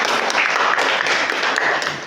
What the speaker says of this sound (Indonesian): tepuk tangan untuk Mbak Silmi